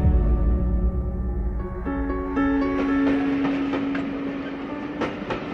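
A train runs along the rails at a station, a steady rumble with metallic wheel squeal and a growing run of rhythmic clicks and clacks, loud and near, with no voices.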